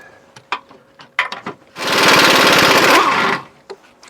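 A power impact wrench on a 2007 Ford Edge 3.5L breaking loose transmission mount bolts: one loud, sustained rattling hammer burst of about a second and a half, close by, between quieter clicks and handling noises.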